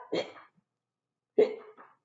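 Two short vocal hiccup sounds made by a person imitating hiccuping, separated by a pause of about a second, close and clear in a quiet room.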